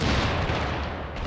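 A grenade blast in the shooter game Syndicate, a loud, dense roar with a heavy low rumble that runs for the whole short stretch without pause.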